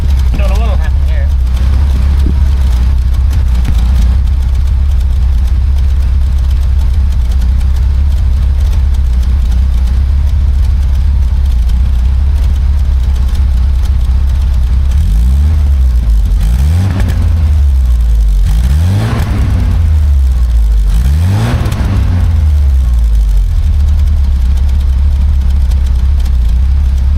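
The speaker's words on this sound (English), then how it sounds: "I'll go and stick this by the muffler and then give it a couple of revs" A BMW 2002 engine revs a few times close to its muffler, three rising-and-falling blips standing out over a steady loud idle rumble, with some talk mixed in.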